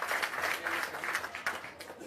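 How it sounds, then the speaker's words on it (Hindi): An audience at a Jan Suraaj meeting at a Bihar satyagraha ashram breaks into steady applause, a dense wash of clapping that swells and fades in waves. "एक बार जोरदार ताली आप अपने इस प्रयास के लिए लगा लीजिए"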